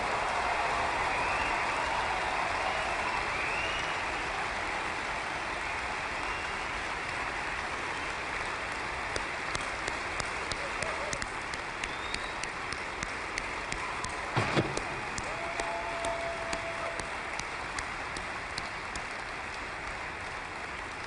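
A large crowd of about 13,000 supporters stands and applauds, producing a long, dense, steady wash of clapping that fills the hall and fades slightly over time, with a few sharper claps standing out.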